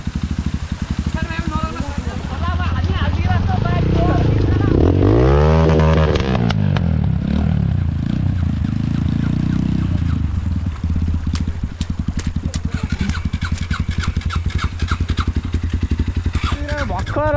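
A motorcycle engine runs steadily after a push start, loud and close throughout with some revving and clatter, while people talk over it.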